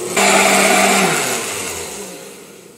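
A kitchen blender purees cooked lentils for lentil burgers, a loud, steady whirring roar that starts abruptly and gradually eases in level over nearly three seconds.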